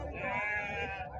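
Goats bleating at a weekly livestock market in Siddipet district, Telangana, a sustained wavering bleat close by with crowd noise and talk beneath it.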